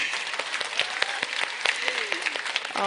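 An audience at an auto sales company's award gathering applauds a speaker, a steady patter of many hands at moderate distance, with voices mixed in underneath.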